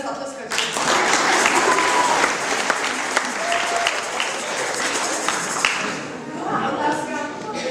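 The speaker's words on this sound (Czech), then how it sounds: "A publiku nezapomene zatleskat." An audience applauds at a school Christmas show after a quiz answer, a dense round of clapping with some sharp taps and thuds, and voices talking over it.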